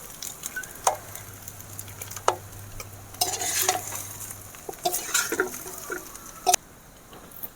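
Fried rice with vegetables is stirred and tossed in a hot pan: brisk scraping strokes of a spatula and crackling sizzle come in uneven bursts, close up, with a low hum early on and a sudden stop near the end.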